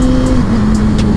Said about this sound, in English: I blipped the throttle real quick and then I upshifted.